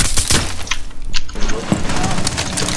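Gunfire and explosive blasts in Rainbow Six Siege, a few sharp, loud shots and booms scattered through a busy, noisy mix, with someone talking over them.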